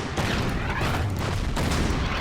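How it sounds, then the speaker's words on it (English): Artillery fire on a mountain position in the Order of Battle Kasserine Pass battle, a loud, continuous rumble of blasts merging together, with no talk. "Now let's keep firing the artillery up on the mountain here."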